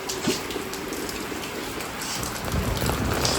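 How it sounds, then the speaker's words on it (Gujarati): Dense, steady overnight downpour hissing across the whole clip in a village, close and unbroken, growing slightly heavier toward the end. "રાત્રે અગિયાર વાગ્યાથી કન્ટિન્યુ વરસાદ ચાલુ"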